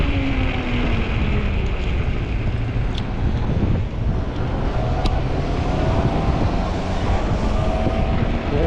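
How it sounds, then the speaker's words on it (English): Heavy wind buffets the microphone while someone rides a 20-inch folding fat-tire e-bike outdoors, a loud continuous roar and rumble throughout with faint tonal hum underneath. "Oh, that wind."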